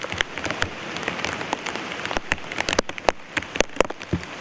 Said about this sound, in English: We can hear the rain coming down though.